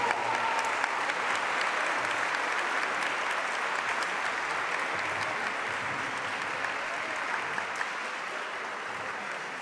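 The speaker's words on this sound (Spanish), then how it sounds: "Fuerte el aplauso para todas las participantes" An audience applauds singing contestants at a banking games vocal competition, a steady wash of clapping that holds at even strength throughout and fades only slightly toward the end, heard with no voices over it.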